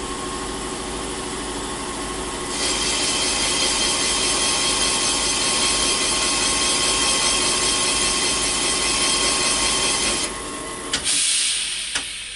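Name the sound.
carbide cutter cutting Buick 264 Nailhead valve seat angles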